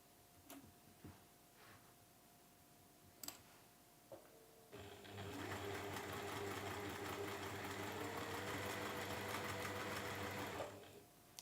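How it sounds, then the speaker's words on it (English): Sewing machine stitching diagonally across the corner of a schoolhouse tile quilt block. A few faint clicks come first, then a steady, quiet run of fast stitching for about six seconds before it stops. "So basically we're sewing across the corner, and we're going to sew on that line."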